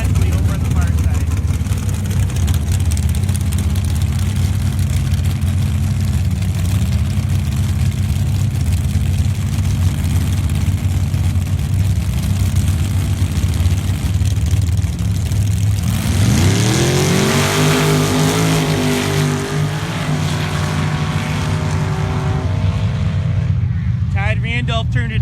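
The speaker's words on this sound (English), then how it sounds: "Next up, Todd Randolph in the near lane. This Jeep is for sale" Drag race engines, a Jeep in the near lane and a dragster, rumble steadily throughout, with a loud engine rising in pitch near the end over ongoing announcer commentary.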